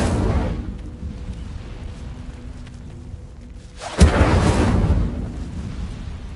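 The Incendio fire spell is cast in the video game Hogwarts Legacy: a low rumbling lead-in, then a sharp burst at about four seconds, followed by a roaring, whooshing blaze that fades slowly.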